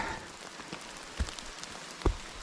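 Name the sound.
rain falling on a hiking trail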